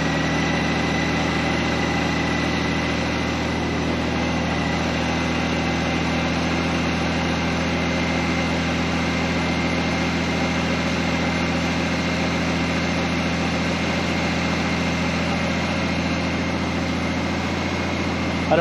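A Honda GoldWing GL1800 motorcycle idling in a cold garage, its engine giving a steady, loud, even drone that holds unchanged throughout, close to the listener with no talking.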